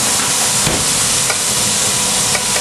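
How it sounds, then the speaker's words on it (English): Chili bits and plum tomatoes frying in a pan for an Indian takeaway-style curry, a loud, steady, dense sizzle close up, with a few faint scrapes. "the little bits of chili are browning. Not burning, but they're slightly browning"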